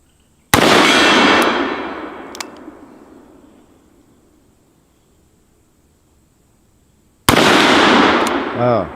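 Two very loud, close gunshots from a Smith & Wesson .460 XVR Magnum revolver, the first blast with a long decaying echo across an outdoor range, the second cracking sharply near the end.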